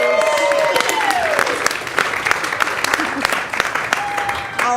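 Sustained audience clapping at a theater film showcase, steady and moderately loud, with a voice talking over it for most of the stretch.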